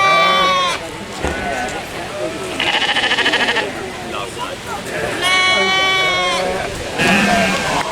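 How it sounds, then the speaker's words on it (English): Sheep at the Bath and West Show, an agricultural show, bleat loudly and repeatedly from close by, several calls in bursts, with people chatting nearby. "Aren't they lovely? What breed do you reckon that is, Harry? Sheep man?"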